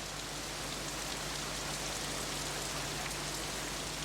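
Torrential rain falls over a car park in a constant, even hiss of drops that stays steady and fairly soft, with a low hum underneath and no voices.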